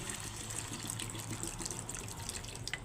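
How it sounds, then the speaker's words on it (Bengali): Water poured into a pan of sautéed pointed gourd cooking with prawns, a steady splashing trickle running on without pause, near and alone. "পটলটা কষানো হয়ে গেছে এখন আমি জল দিয়ে দিচ্ছি"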